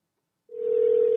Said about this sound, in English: We're ringing him live